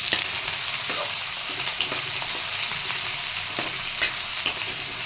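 Capsicum, bay leaf and green chili frying with onion in a pan for mushroom Manchurian give a steady, close hiss of sizzling oil, with a few sharp clicks from stirring and no talk.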